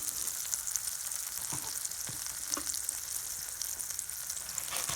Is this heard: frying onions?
yes